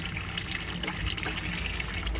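Steaming hot water runs steadily from a tap in an Autosleeper Symbol motorhome, a continuous broadband gush close to the listener with no break.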